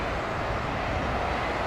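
Boeing Business Jet on a diplomatic arrival at London Heathrow, a brief, dense and steady engine rumble heard close and fairly loud.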